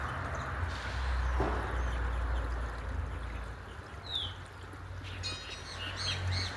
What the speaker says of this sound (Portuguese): O movimento dos pássaros.